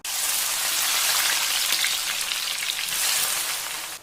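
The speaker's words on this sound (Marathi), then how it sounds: "आधीच कांद्याच्या सगळ्या लेयर्स मोकळ्या करून घ्यायच्या आहेत, म्हणजे तेलात ते व्यवस्थित तळायला सुरुवात होते।" Thinly sliced onions fry in a wide pan of hot oil for crispy fried onions, giving a loud, steady, dense sizzle with no talk over it.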